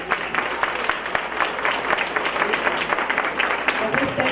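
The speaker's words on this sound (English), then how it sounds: "let's actually give our superintendent of schools a rounding applause." Dense, steady applause from an audience at a school district session, clapping for the superintendent of schools, continuous and fairly loud throughout with no voices over it.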